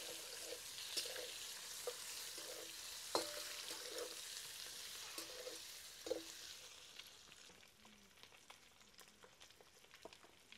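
Slit boiled eggs frying in oil with turmeric make a soft, steady sizzle with occasional clicks of a spoon turning them, fading slightly toward the end.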